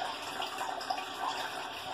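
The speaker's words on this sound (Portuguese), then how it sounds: "Aí eu dei outra descarga, aí não veio mais água." A toilet with a side-button flush kit being flushed, a steady rushing wash of water that stays even and moderately loud for the whole stretch, heard alone without talk.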